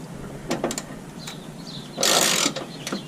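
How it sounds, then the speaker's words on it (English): Wrench loosening bolts on a Rugged Ridge Spartacus HD tire carrier on a Jeep, a few short metallic ratcheting clicks and clanks close by, with a louder burst of mechanical rattling midway. "I'm actually going to use a wrench first."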